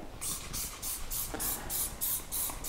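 Foaming wheel cleaner sprayed onto car wheels and tires in quick, even trigger bursts, about nine close hissing sprays in a steady rhythm.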